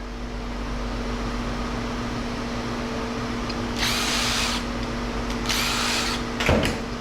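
A power nut driver whirs steadily while removing screws during micro scrapping for copper, with a constant motor drone underneath and a few brief, louder spurts of higher-pitched spinning, no voices.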